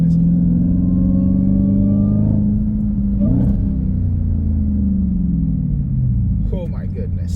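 A Dodge Hellcat engine in custom mode revs with a loud, deep rumble that rises and falls in pitch, then settles into a steady idle growl, with people talking briefly over it.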